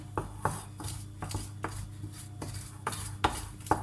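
A spatula folds cake batter in a bowl, giving soft repeated scraping strokes in a steady rhythm with light knocks against the bowl, close and quiet with no talking.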